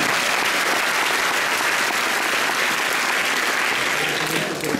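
An audience claps steadily in rhythm at a stage music program, dense, loud and continuous from start to finish with no break.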